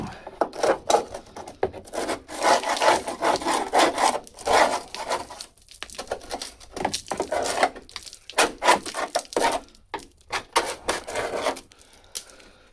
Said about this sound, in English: If you wonder where I got this wonderful scraping tool, any Poundland shop.